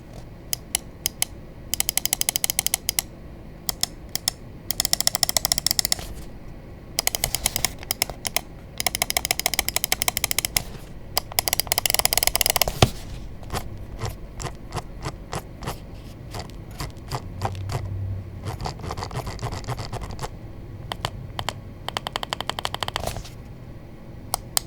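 Sharp button clicks from an Asus ROG Harpe Ace Extreme carbon fiber gaming mouse, fired in rapid bursts and runs separated by short pauses, close and crisp with no voices.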